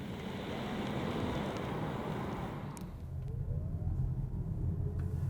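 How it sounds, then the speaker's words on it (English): A 2023 Polestar 2 electric car accelerating in reverse, heard from inside as a steady low road rumble and tyre noise with a faint rising motor whine, no talking. "Let's see how quick the Polestar 2 will go in reverse."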